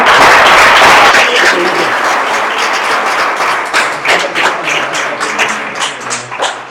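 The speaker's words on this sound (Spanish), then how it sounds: "Pues yo creo que vamos a dar un aplauso." Audience applause closing a seminar on data protection and privacy: a loud burst of clapping from many hands that starts full, then thins into scattered separate claps as it dies away.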